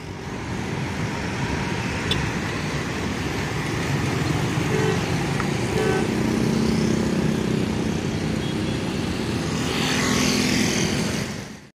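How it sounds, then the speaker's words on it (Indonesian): A Jetbus 3 Voyager coach passes on an eastern-route road, a steady engine and tyre roar that swells and holds near, with a brief horn-like tone and other traffic around. "Ada bus ya, pakai berbodi Jetbus 3 HDD ya"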